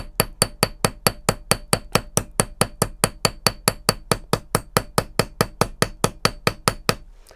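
A hammer strikes a textured metal bracelet blank in a steady run of about thirty sharp, evenly spaced metallic blows, close and loud, then stops.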